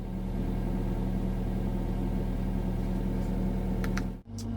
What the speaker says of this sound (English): I'm coming up in digger